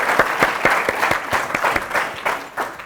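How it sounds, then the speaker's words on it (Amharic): An audience claps for a student contestant at a children's school quiz show, brisk rhythmic applause of a small crowd, close and fairly loud, with no talking. "ያብስራ አጨብጭቡለት ለያብስራ በደንብ አድርጋችሁ።"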